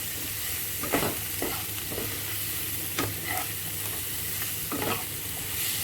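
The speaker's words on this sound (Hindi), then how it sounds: "इस सबको पहले मैं अच्छे से मिक्स कर दूंगी" Spices and garam masala being stirred and mixed in a bowl with a spoon, a few scraping strokes against a steady background hiss, close and fairly quiet with no talking.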